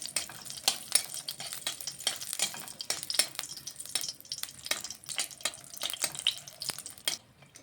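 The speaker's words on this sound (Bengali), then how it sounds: "এখানে আমি দুটো শুকনো লঙ্কা ফোড়নে দিয়ে দিলাম লঙ্কা দুটো একটু ভেজে নিচ্ছি" Two dry red chillies fry in a little hot oil for tempering, giving a faint, crackly sizzle with scattered pops and stirring clicks close by, no talking.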